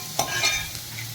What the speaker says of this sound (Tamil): இஞ்சி பூண்டு பேஸ்ட்டு, வெங்காயம் நல்லா போட்டு வதக்கிக்கணும்.